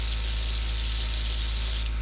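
Steady close airbrush hiss sprays colour over a dragon-skin handbag cake, with a brief stronger burst near the end and no talking.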